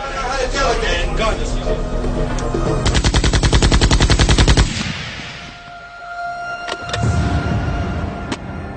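A rapid burst of automatic gunfire rattles loudly for about two seconds amid other clattering sounds, followed by a couple of sharp single shots.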